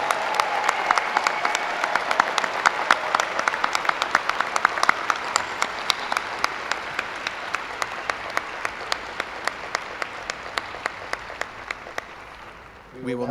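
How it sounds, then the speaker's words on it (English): A graduation ceremony audience for arts, media and design graduate students claps in sustained, even applause that stays dense and moderately loud before tapering off, with a voice briefly starting up at the very end. "Please give a big round of applause to all CAMD graduate students."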